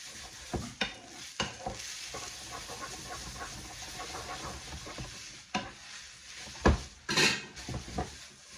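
Spaghetti being tossed and stirred through hot pancetta fat in a pan for a four-ingredient carbonara, with soft sizzling under repeated scraping and clattering strokes, a few sharper knocks of utensil on pan, no talking.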